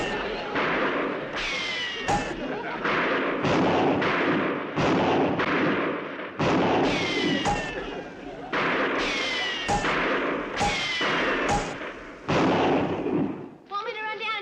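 Rifle shots fired at about 100 yards to drive nails into a target, a long series of loud, sharp cracks spaced a second or two apart, each with a brief ringing tail, close and dominant throughout.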